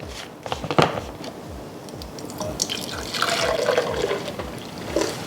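Homemade one-ingredient keto milk pours into a container with a steady liquid splash and gurgle, close and fairly loud, the stream filling and bubbling throughout.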